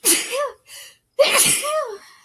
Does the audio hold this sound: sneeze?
yes